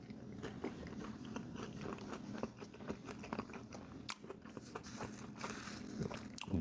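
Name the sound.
biting and chewing Raising Cane's food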